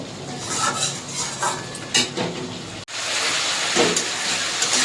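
A lid is lifted and a pan of Bengali curry with spices frying in oil is stirred; steady close sizzling runs throughout with scraping and clinking strokes, and a brief sharp clatter midway.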